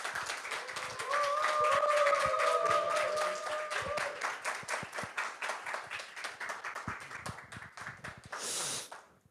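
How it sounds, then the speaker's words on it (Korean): Church congregation at a Thursday worship gathering applauding to welcome a guest speaker, a dense burst of many hands clapping that swells, then thins into scattered claps, with a few sustained voices or whoops rising over it early on. "나오실 때 큰 박수로 환영해 주시길 바랍니다."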